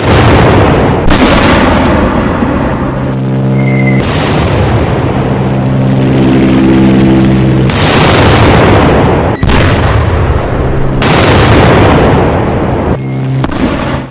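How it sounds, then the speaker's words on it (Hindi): Explosions from an Israeli strike blowing up a Hamas tunnel in Gaza: about six loud, sharp booming blasts at irregular intervals, with heavy rumbling in between. "गाजा में देखिए हमास की सुरंग को विस्फोट से उड़ा दिया है।"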